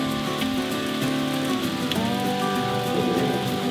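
Heavy rain mixed with hail and sleet pours steadily outdoors during a thunderstorm, a dense, continuous hiss and patter close by with no talking.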